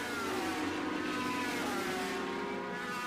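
Racing motorcycles, among them a BMW, accelerate hard down a straight at the Pannonia Ring in Hungary during an Alpe Adria championship race, a loud continuous engine roar with rising whine that fills the whole moment.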